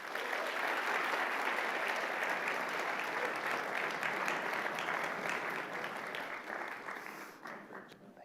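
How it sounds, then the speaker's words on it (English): A large audience at the University of San Diego gives its president sustained applause during the Fowler Global Social Innovation Challenge finals, a dense, even roar of clapping that holds steady and then tapers off toward the end. "please give a big round of applause to our president here at the University of San Diego"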